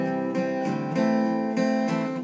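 An acoustic guitar strums the chords of a song with an up-and-down brushing pattern, steady rhythmic strokes ringing close and clear with no voice.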